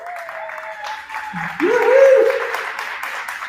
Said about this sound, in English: Can we give a round of applause for the school?